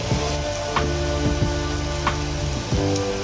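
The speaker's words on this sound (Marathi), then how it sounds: "हे मी नूडल्स ह्याच्यामध्ये टाकणार आहे फ्राय करण्यासाठी." Noodles fry in hot oil over a low gas flame, a constant close crackling sizzle broken by several soft stirring scrapes and brief bubbling bursts.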